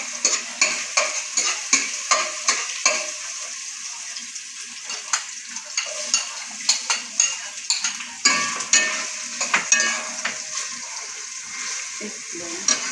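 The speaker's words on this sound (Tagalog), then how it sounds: "I saute in onion and garlic." Onion and garlic sautéing in a pan, a steady sizzle under regular scraping stir strokes, close and fairly loud throughout.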